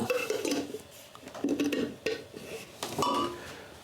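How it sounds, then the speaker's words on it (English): Lid set onto a glass jar holding two ounces of oak chips, a few light clinks and taps of glass and metal spread over several seconds, close and fairly quiet. "Put a lid on it."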